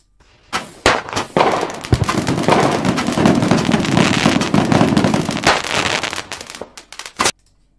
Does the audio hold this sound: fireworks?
yes